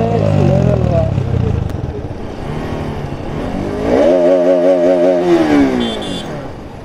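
A Yamaha MT-15 motorcycle with a modified aftermarket exhaust revs loudly nearby, rising and falling engine notes with a sharp climbing rev near the end, under overlapping talk.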